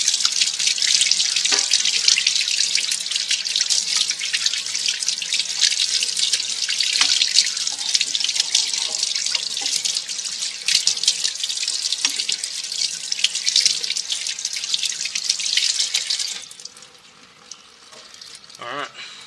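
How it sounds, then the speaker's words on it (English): Tap water streams into a sink as a soapy, slippery bottle is rinsed underneath, a steady bright hiss with small clunks and splashes, then the flow cuts off near the end, leaving quiet drips and handling. "I always have to wash the bottle afterwards because it's this soapy, slippery mess that's always on it."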